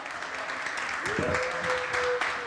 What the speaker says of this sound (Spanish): Recibimos con un fuerte y cariñoso aplauso a nuestra expositora Esther Kaufman